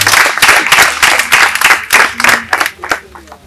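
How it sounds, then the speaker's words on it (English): Loud, close audience applause at a formal event on girls' rights, with distinct rhythmic clap bursts and voices talking over it, tapering off near the end. "Please a round of applause."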